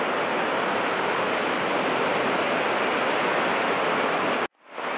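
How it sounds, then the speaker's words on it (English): The second waterfall at Seven Falls roars close by as a loud, steady wash of rushing water, holding constant until it cuts off abruptly near the end. "That's waterfall number two."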